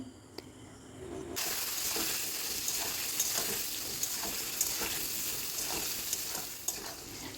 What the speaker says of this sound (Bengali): বেগুন ভাজবার সময় হালকা একটু লবণ আর একটু হলুদ দিয়ে বেগুনগুলোকে ভাজতে হবে